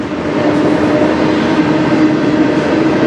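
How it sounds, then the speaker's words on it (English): Autorack freight cars rolling over rough, badly maintained track, a loud, close, continuous rumble and rattle of wheels and car bodies without pause. "The train car is almost bouncing around, especially the last few."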